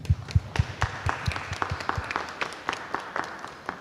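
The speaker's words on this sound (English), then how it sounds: "So does anybody want to help me give them a round of applause?" Scattered clapping from a small group at a school board meeting, individual claps distinct and uneven rather than a dense roar, fairly close and moderately loud.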